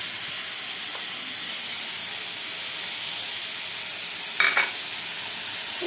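Ginger paste is stirred into a hot frying pan, giving a steady sizzle and hiss with a couple of brief scraping strokes near the end.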